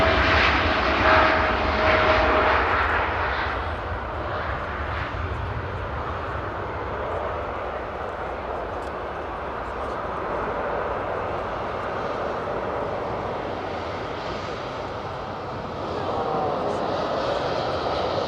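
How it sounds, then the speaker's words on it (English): An Air Canada airliner departs Manchester Airport bound for Toronto, a loud broad jet roar that swells at the start, eases into a sustained rumble and builds again toward the end, with no voices over it. "Air Canada departing to Toronto there."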